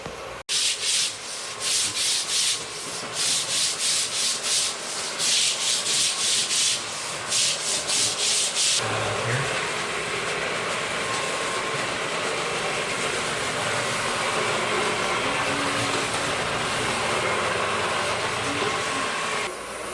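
A counter-rotating brush machine scrubs dirty tile, first in loud rhythmic swishing strokes, then settling into a continuous close whirring scrub.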